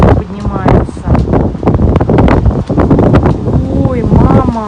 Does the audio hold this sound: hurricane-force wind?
yes